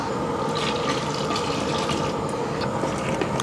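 Tamarind water is poured into a large pot of eggplant sambar being cooked for about thirty-five people, giving a steady, close, splashing pour that runs unbroken for several seconds.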